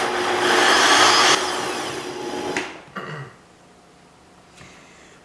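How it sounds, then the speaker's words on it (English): An electric blender whirs loudly through lentil bread batter for a burst of over a second, then winds down, with a few clunks and a short quieter pulse afterward. "We'll just blend this up a little bit."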